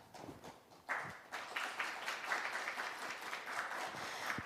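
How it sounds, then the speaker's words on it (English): Applause from an audience at a formal ceremony, a moderate crowd clapping that swells after a soft start and continues steadily, heard at a distance with a roomy, slightly muffled quality. "please give him another big round of applause"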